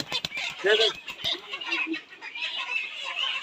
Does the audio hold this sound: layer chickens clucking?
yes